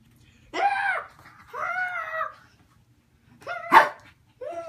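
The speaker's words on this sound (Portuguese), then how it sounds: "Ele aprendeu a latir, você viu?" Small dog making a few short, high yipping barks and whines indoors, separated by quiet pauses.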